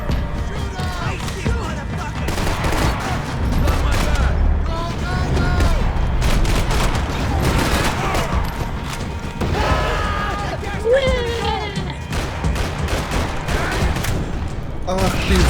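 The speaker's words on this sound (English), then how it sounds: "Gunfire over Hoboken." Sustained gunfire from the Max Payne 3 video game, set over Hoboken, with dense overlapping shots and booms rolling continuously at a loud, steady level.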